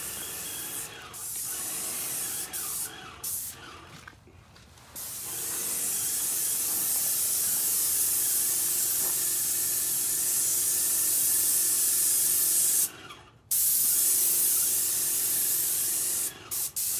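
A Graco X7 airless paint sprayer gives a loud, harsh hiss that runs in sustained bursts, cutting off and restarting several times as the trigger is pulled and released, heard close and without talking.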